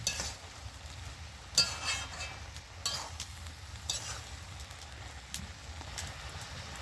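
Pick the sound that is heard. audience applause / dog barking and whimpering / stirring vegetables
stirring vegetables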